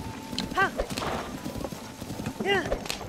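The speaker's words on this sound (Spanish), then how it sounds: "Sacar un caballo." A horse in Zelda: Tears of the Kingdom gallops with rapid hoof beats and neighs twice in short whinnying bursts, while a person talks over it.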